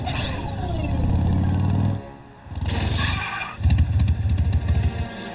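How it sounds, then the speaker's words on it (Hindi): A cartoon motorcycle engine rumbles loudly and steadily, with a short drop in the middle before it revs back up with rattling, clattering bursts. "वो रही मोटरसाइकिल।"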